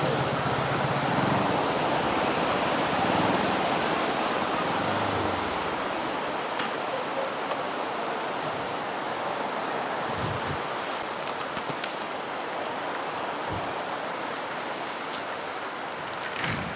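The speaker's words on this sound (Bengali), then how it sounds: "তো এদিকেও বৃষ্টি নেমে গেছে" Rain falls steadily in Bandarban, Bangladesh, a broad, even roar of drops hitting surfaces nearby, with a few faint low thumps underneath and no one speaking.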